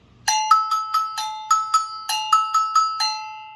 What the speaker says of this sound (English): So this is a go-go bell is what it's called.